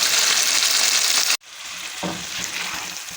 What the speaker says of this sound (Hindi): अब ये अच्छी तरह बुनाई कर लूँ मसाले के साथ